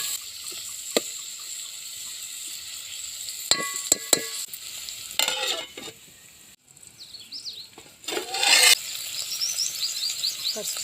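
Vegetable pieces drop into a pan of onions, turmeric and ginger paste for a drumstick curry, giving scattered clattering bursts and crackling fry amid quieter gaps, with faint bird calls in the background.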